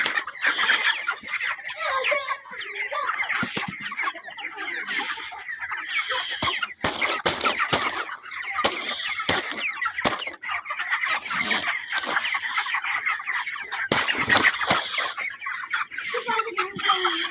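Crowded chickens in a poultry house cluck continuously in a dense, noisy chorus, with occasional crowing cutting through and a hum of background activity throughout.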